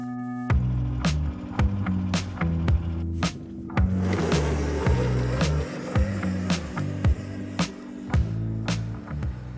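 A converted electric motorized sled, a snow-less machine with an electric motor and transmission, rides across a field, giving a steady whining drone broken by regular rattling clunks and knocks as it bumps along, with no talking.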